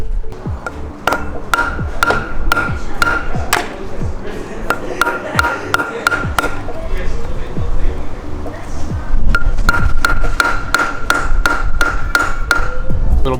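Sharp metallic hammer strikes drive an extractor into a drilled hole, ringing out in irregular bursts, many blows in quick succession with a pause midway, close and loud with a bright ringing tone.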